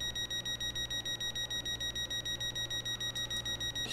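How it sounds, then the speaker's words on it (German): A warning beeper sounds in a Southeastern high-speed train cab in Train Sim World 2, pulsing rapidly and steadily at about five beeps per second over a low, constant cab hum, with no talking. "Das Gepiepe geht auf den Keks"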